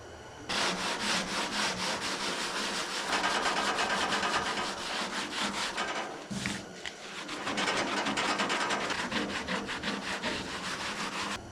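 Duragold sandpaper is rubbed by hand across a surface in quick repeated back-and-forth strokes, a loud, close, dry scratching that runs steadily with one brief pause partway through.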